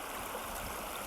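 A stream flows beside a hiking trail near Whitewater Preserve, giving a steady, soft, broadband rush of running water with no voices.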